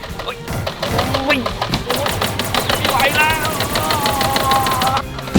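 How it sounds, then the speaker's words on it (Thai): Rapid, continuous gunfire from a powerful weapon in a zombie video game rattles loudly throughout, with a player's excited voice shouting over the shots. "ปืนอะไรมันแรงจังเนี่ย"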